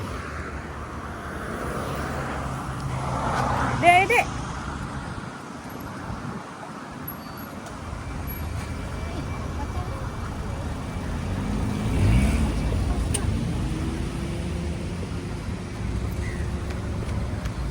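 Evening traffic jam on a busy road, a steady rumble of car and truck engines close by with occasional revving and passing vehicles, and a brief voice over the din.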